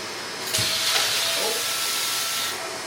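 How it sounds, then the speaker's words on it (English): A wired vacuum cleaner runs on a tile floor set to hard-floor mode, giving a steady airy hiss that swells briefly and then settles back to a constant rush. "when you start to vacuum your tiles, switch to hard floor"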